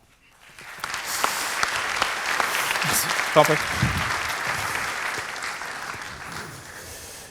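Sustained audience applause at a French tech conference on containers and Kubernetes, building after a second and holding steady for several seconds, with a brief spoken thanks partway through.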